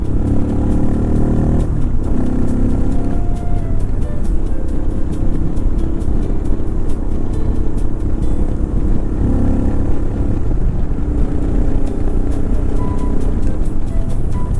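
A modified Royal Enfield Himalayan 411 motorcycle fitted with Decat, DNA filter and FuelX rides at an easy pace on small country roads, its steady engine drone mixed with continuous wind rush throughout.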